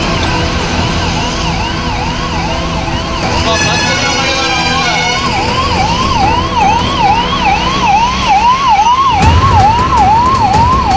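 A loud wailing ambulance siren stuck in road traffic rises and falls steadily and continuously, with a second overlapping siren tone joining partway through.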